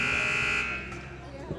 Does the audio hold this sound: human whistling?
no